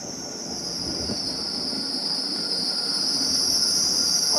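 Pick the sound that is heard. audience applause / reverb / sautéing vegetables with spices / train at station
train at station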